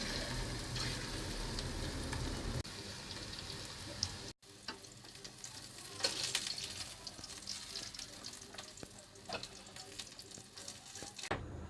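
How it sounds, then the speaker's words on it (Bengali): Marinated chicken pieces frying in hot oil, a steady soft sizzle with occasional crackles and a brief gap partway through, fairly quiet and without speech. "এবার এক এক করে সমস্ত চিকেনগুলোকে ভালোভাবে ভেজে নেব।"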